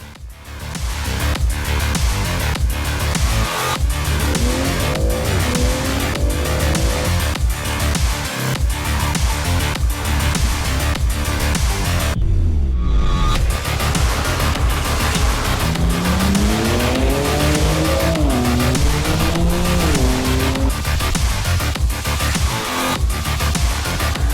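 BMW 340i with a 387-horsepower turbo engine and launch control accelerating hard on a track, a loud, steady engine roar rising through repeated gear pulls, with tire squeal and a brief gap midway.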